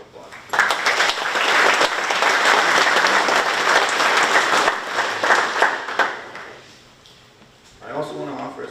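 An audience at the opening of the Fort Hays Tech North Central Hansen Construction Career Center bursts into full applause for about six seconds, then it fades out and a speaker resumes talking.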